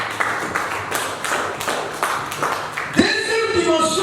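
A congregation at a French-language church service claps in a steady rhythm to acclaim Jesus, with a voice speaking over the claps and a ringing electronic tone entering near the end.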